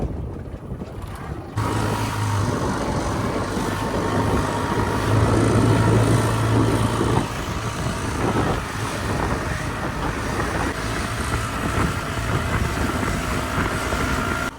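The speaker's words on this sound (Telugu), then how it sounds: "మనం ఇప్పుడు బోట్ తీసుకొని అక్కడ ఉంది ఆ ఐలాండ్కి వెళ్ళడానికి ట్రై చేస్తున్నాం అన్నమాట" A rented motorboat heads out across the ocean toward an island off Puerto Rico's Atlantic coast, its engine droning steadily and loudly alongside rushing water and wind buffeting the microphone, with no voices.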